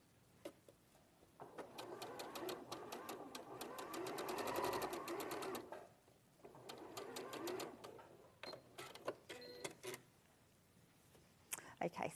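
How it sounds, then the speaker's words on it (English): Sewing machine stitching a sleeve into a garment, running in bursts of rapid mechanical whirring with pauses between, close and fairly loud, with a person talking during parts of it. "I don't usually stand and chat whilst I'm sewing."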